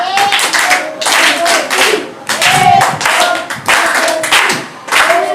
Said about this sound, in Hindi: इसके लिए भी एक बार तालियां बजा दो